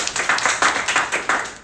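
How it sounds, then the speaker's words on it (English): Audience applause at a Toastmasters meeting, a steady patter of many hands clapping close by for under two seconds with no voices over it. "So big round of applause for all of"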